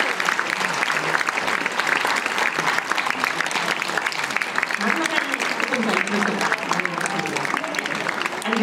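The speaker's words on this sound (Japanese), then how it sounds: "皆様拍手でお迎えください" Sustained audience applause greets the performers of a jōruri puppet theatre show, a dense, steady wash of many hands clapping throughout, with faint voices mixed underneath.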